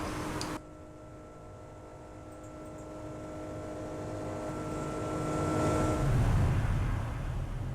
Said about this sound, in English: Not bad from behind, but inside the cabin, that engine sound is just like jarring